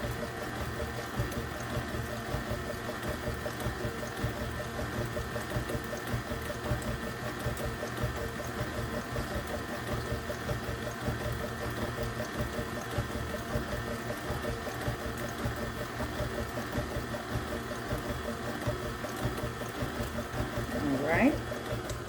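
An electric mixer blending vegan lemon cake batter, giving a steady, even motor whir that runs unbroken and at a constant level throughout.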